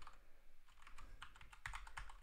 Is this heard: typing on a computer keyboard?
yes